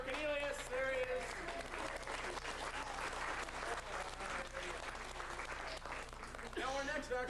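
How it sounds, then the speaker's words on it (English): At a magic club's Valentine's Day brunch, an audience applauds a magician: sustained clapping from a modest crowd, with a voice speaking briefly near the start and again at the end. "Another round of applause for Cornelius."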